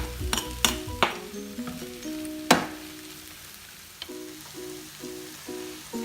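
Finely chopped garlic hitting a hot pan for a pepper frittata, a bright crackling sizzle with a few clinks and stirring knocks at the start, then settling into a steady hiss with a faint tonal hum beneath.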